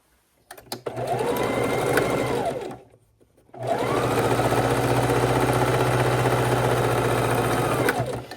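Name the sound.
sewing machine stitching across white fabric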